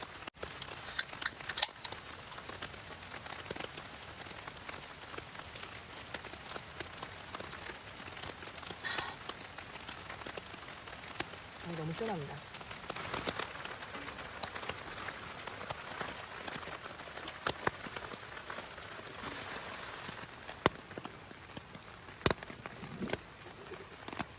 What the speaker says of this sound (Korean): 빗소리는 너무 좋습니다.